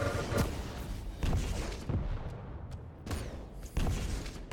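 Quake game railgun and weapon fire during a fast arena duel, several sharp loud bursts in an irregular rhythm over a rumbling game background.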